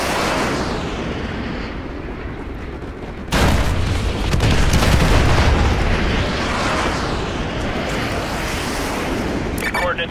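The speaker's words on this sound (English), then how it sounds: "Fire mission received. Artillery inbound." Heavy artillery explosions in Call of Duty Modern Warfare 2 pound in a dense, sustained rumble that jumps louder partway through, with thick low booms rolling together and a sharp burst near the end.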